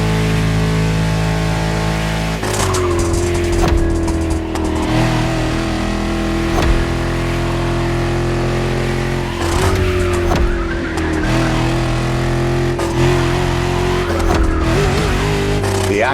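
A French luxury car from The Crew Motorfest racing game drives the roads of Maui, its engine note holding steady and loud throughout with occasional shifts and tire noise, no talking.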